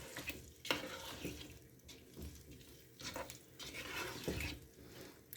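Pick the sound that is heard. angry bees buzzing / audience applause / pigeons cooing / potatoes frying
potatoes frying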